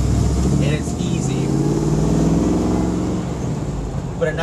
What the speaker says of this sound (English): But a nice note to the exhaust